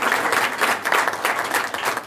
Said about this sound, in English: we could also just applaud the labor of our speakers